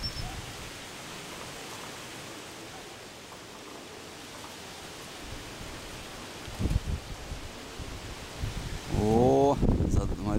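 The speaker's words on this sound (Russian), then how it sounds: "О, смотрите, как задуло. Прям порывы вообще сильные по ветрам." Strong gusts of wind rush across an outdoor microphone as a steady broadband roar, swelling louder toward the end, where a voice briefly talks over it.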